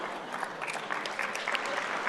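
A live audience at a talk on race and privilege claps steadily at moderate loudness for about two seconds, with no voices over it.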